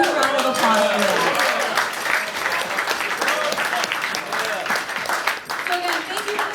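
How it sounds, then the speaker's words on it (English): An audience at a company gathering breaks into loud, sustained applause, many hands clapping close by, with voices calling out over the clapping throughout. "you guys deserve a huge round of applause for that"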